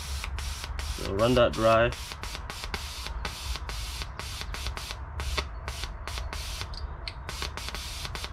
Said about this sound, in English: So that's all that carb cleaner, cleaning it out.